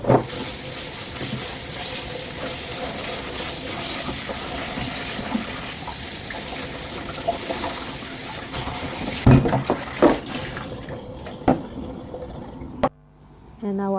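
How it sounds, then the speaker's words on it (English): Tap water runs steadily while lettuce is washed for fresh spring rolls in a home kitchen, a broad continuous splash with brief clatters and bumps near the end, and talk in the background. "we're going to wash our lettuce."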